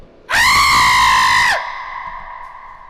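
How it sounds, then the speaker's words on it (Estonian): A loud, sharp human scream echoes through a sewer for about a second, then cuts off, leaving a lingering reverberant tail in the dark tunnel. "Keegi karjus?"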